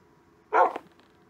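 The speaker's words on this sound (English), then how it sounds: "Look at all those dogs." A single short dog bark from a video game, fairly close and clear, rising out of a quiet background.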